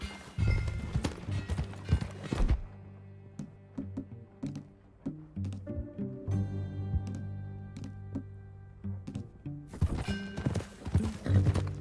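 Horse hooves clip-clop in quick rhythmic bursts in Red Dead Redemption 2, with a brief pause midway before the galloping resumes, over a soft musical backdrop and an occasional whinny.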